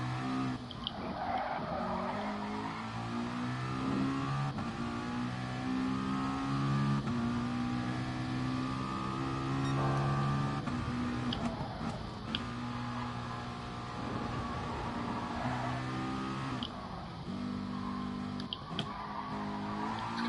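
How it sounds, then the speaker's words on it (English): Race car tires squealing and skidding through a corner in Gran Turismo Sport, a sustained engine drone with layered harmonic tire screech, sliding steadily for about twenty seconds with a few sharper bursts. "Skidding a little bit more than I want to."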